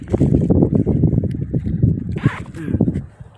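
A combine harvester running in a field at harvest time, a loud, dense low engine rumble with wind buffeting the microphone, steady throughout before fading near the end.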